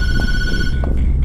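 A telephone rings with a steady electronic trill lasting the whole moment, loud and close, over a busy room-noise background with no talk.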